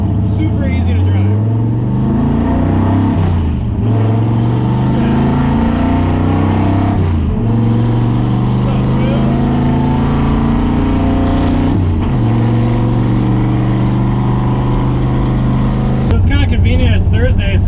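A Ford F100 engine fitted with a lightweight McLeod aluminum flywheel revs loudly while driving, its deep droning harmonics climbing and dropping through several gear changes, with a sharp rise near the end.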